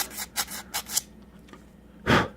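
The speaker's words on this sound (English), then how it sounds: "I am going to do a little bit of cleanup with some sandpaper along the edges here. Just some fine grit stuff." Fine grit sandpaper rubbed along the cut edge of a clip, a series of short, soft rasping strokes close by, then a louder, fuller scrape after a pause.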